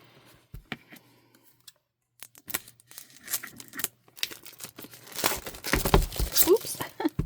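Scissors snip into the cardboard box of a Leela Journals reading journal amid crinkling packaging, starting with sparse cuts and clicks and building into dense, close cutting and rustling.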